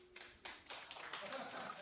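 A talk-show studio audience bursts into scattered clapping, a handful of distinct claps building into a looser patter, with a voice speaking over it.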